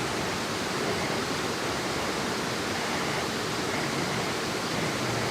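The Nglirip waterfall rushes in a dense, steady roar of falling water, loud and unbroken throughout with no voices.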